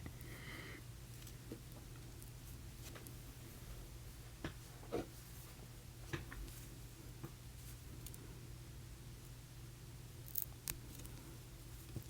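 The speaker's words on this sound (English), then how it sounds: "I'm just weaving the thread a little bit here. There we go, and I'm going to cut it." Scissors snip beading thread on an intermediate-to-advanced beaded necklace, a few small, crisp cuts spaced apart over a quiet, steady room hum, close to the microphone and soft, with no talking.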